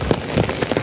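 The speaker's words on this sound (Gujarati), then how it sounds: "અને વરસાદ આવી ગયો એટલે હવે શું કરીએ, ઘેરાઈને બેસી ગયા ઘરે" Monsoon rain falls on a village home in a dense, steady patter with distinct drops hitting surfaces, close and fairly loud.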